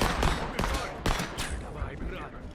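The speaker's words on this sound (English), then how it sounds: "They're still shooting at me." Gunfire in the video game Phantom Line: four or five loud, sharp shots crack close by at uneven intervals, each trailing off into a brief echoing tail.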